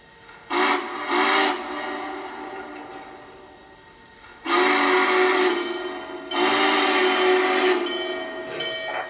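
Lionel Legacy N&W 611 model steam locomotive sounding its whistle as it departs a station, several loud sustained chord blasts separated by quieter running noise, with no talking.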